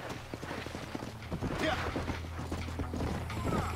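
Horse hooves clip-clopping at a walking pace in Red Dead Redemption, with faint creaks of tack, under a voice speaking over the steady rhythm.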